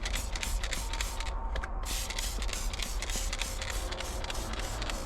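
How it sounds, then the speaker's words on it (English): Spray bottle of multi-purpose cleaner misting a car door panel on a supercharged wide-body Fiero, a run of short repeated hissing spritzes close by, with a brief pause partway through. "We get some spray, wipe the door panel down"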